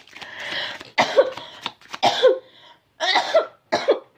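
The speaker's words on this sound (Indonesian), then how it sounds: "Kok tiba-tiba batuk." A person has a sudden coughing fit: several harsh coughs come in separate bursts with short gaps between them, close to the mic, with no speech.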